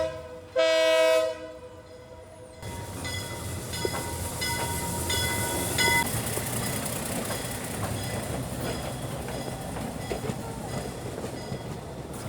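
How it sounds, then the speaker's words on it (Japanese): A train approaches on the railway track near Machu Picchu, opening with a loud horn blast, then a continuous rumble with rhythmic clicking of wheels on rails, light rain in the background. "もうすぐ電車が来ます。"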